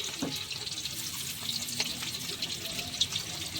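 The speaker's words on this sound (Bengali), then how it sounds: "আমি একটা একটা করে মাছ কড়াতে সাজিয়ে দিয়ে দিচ্ছি" Prawns fry in hot mustard oil in a wok, giving a steady hissing sizzle with small crackles and spits, moderately loud and close, with no talk over it.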